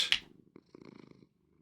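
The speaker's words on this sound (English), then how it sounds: "Cat starts to purr." Domestic cat purring softly up close after a brief high rustle, a low rhythmic rumble lasting about a second, quiet and alone.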